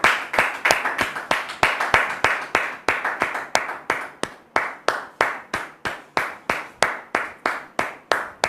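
Church audience clapping to welcome a pastor, steady rhythmic handclaps in an even beat, fairly close and continuous throughout.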